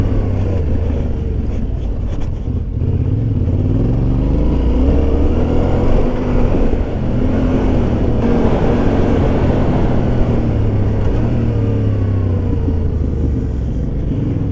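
Yamaha Tenere 700 motorcycle engine riding over rocks, a loud continuous rumbling drone that rises and falls with throttle, up close with wind noise and no talking.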